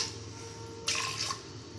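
Water poured from above into a pressure cooker holding jackfruit seeds, a brief splashing burst of under half a second against a steady low kitchen hum, fairly close.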